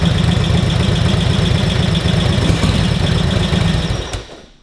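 A Harley-Davidson WLA motorcycle engine idles loud and close with a steady, rapid loping thump, then cuts out and winds down to silence near the end.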